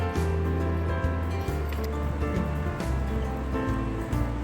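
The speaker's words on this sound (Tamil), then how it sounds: "இப்போ இதில் கைக்கு எதமான சுடு தண்ணி ஆட் பண்ணிக்கிறேன்." Warm water pours into a basin for an at-home manicure, a continuous soft splashing trickle with faint low background hum, steady and fairly quiet throughout.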